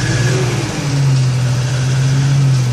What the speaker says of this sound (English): that is a beautiful sounding engine.